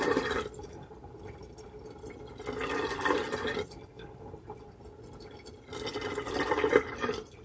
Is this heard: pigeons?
no